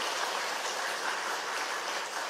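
A church congregation applauds during a service, a dense, even wash of clapping from many hands that sounds somewhat distant and steady throughout.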